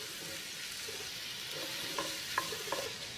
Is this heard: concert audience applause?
no